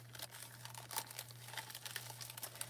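A sheet of gold foil being handled for hot foil pressing, giving soft, continuous crinkling and crumpling with small crackles, quiet and close under a steady low hum.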